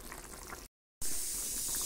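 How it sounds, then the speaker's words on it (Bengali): A thin fish curry broth with shingi fish bubbles and hisses in a covered pot. The steady boiling drops out in a brief cut to silence, then comes back louder. "সব কিছু সেদ্ধ হয়ে গেছে আর পুরো ঝোল ফুটতে শুরু করে দিয়েছে"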